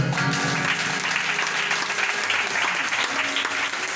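Church congregation applauding together in steady, dense clapping that fills the space, loud and continuous with faint voices mixed in during a worship service.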